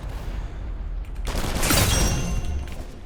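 A gunshot from a first-person shooter video game, one loud swelling blast with a short burst of noise that fades out over low rumbling game sound.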